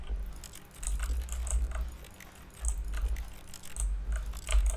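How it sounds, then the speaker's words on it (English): A pencil sharpener in The Stanley Parable is clicked repeatedly, giving quick clusters of light, sharp mechanical clicks in uneven bursts over a low hum. "Man, I'm really clicking this pencil sharpener."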